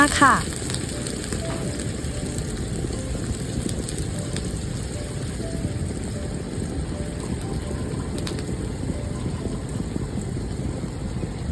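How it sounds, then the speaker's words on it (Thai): Minced garlic sizzles in hot pork lard in a home kitchen wok, a steady, even crackle and hiss that holds at moderate loudness without pause. "ใส่กระเทียมสับที่เราเตรียมไว้ลงไปเลยค่ะ ผัดกระเทียมไปเรื่อย ๆ จนเหลืองหอม"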